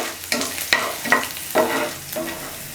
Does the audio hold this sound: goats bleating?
no